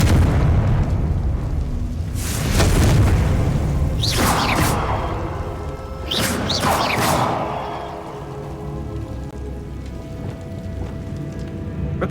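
Confringo blasting spells in Hogwarts Legacy, a video game, go off as several loud bursting explosions a couple of seconds apart over a rumbling, rain-like background.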